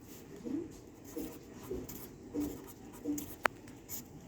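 A maths equation in an algebra lesson is written out in faint, short scratchy strokes at an irregular rhythm, close by, with one sharp tap near the end and no talk.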